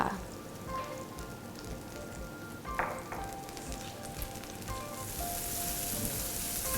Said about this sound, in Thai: แล้วก็ใส่หอมใหญ่ลงไปผัดค่ะ